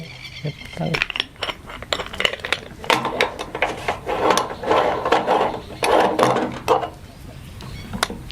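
Metal parts of a moka pot clink, click and scrape as it is put together for brewing coffee outdoors in the morning at Wellington Point, in a quick run of close taps and rattles, with someone talking through much of it.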